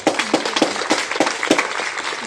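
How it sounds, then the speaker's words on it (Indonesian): Students at a Monday flag ceremony at SMA Negeri Pemana in Sikka, East Nusa Tenggara, clap together in a dense, steady patter of many hands, fairly close and continuous with no talking. "Tepuk tangan untuk kalian semua juga."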